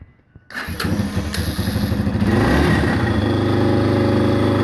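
A cold Yamaha XT 250 motorcycle, its carburetor just reinstalled and choke on, starts after a brief quiet moment and settles into a loud, steady, close engine run that rises slightly in pitch as it warms.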